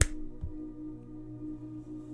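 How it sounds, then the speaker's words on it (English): A single crisp finger snap cracks sharply at the very start during a hypnosis session about junk food and healthy habits, followed by a faint, steady low room hum. "I'm going to snap my fingers"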